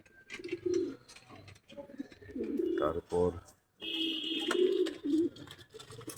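Kept doves coo in soft, low repeated phrases close by, while someone talks over and between the calls.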